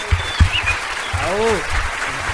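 An audience in a podcast studio applauds the artist Marlon Arenas, with steady clapping under a voice that rises in pitch, and a few sharper claps near the start.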